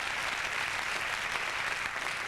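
Studio audience on a 1997 late-night talk show applauding, a dense, steady wash of clapping with no talk over it.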